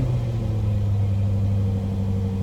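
A 2023 Jaguar F-Type R-Dynamic 5.0 V8 with exhaust valves open rumbles steadily at idle, deep and throaty, close and loud, with a smooth low burble and no voices.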